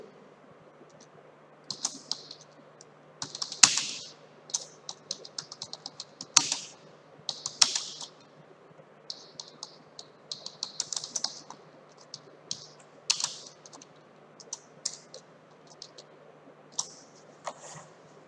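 Typing on a computer keyboard, entering a sentence: irregular bursts of crisp key clicks in quick runs with short pauses, close and fairly loud, over a faint steady hum.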